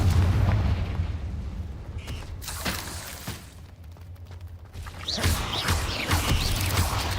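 Fiery Confringo spell blasts from the Hogwarts Legacy video game during a live story session, several sharp booming bursts around the two-second mark and again near five seconds, over a steady low rumble of battle ambience.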